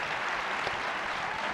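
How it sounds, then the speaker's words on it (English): Steady applause for award winners at the Red Hat Summit 2018 conference, a continuous wash of clapping from an audience without pauses. "Let's give another round of applause to our winners."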